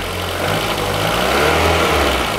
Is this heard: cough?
no